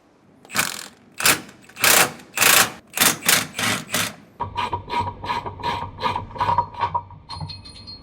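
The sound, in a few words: ratcheting wrench removing bolts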